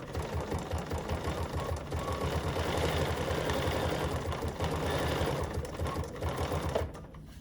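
A sewing machine running a straight stitch around appliquéd berries on a fabric notepad holder, a fast, steady mechanical chatter held continuously at close range before it slows and stops near the end.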